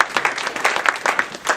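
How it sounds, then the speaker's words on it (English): Audience applause for American University at the close of a Washington, DC panel on Kenyan and other African ICC cases, a short burst of dense, steady clapping from a seated crowd. "I also ask you to give a round of applause to American University for making this program"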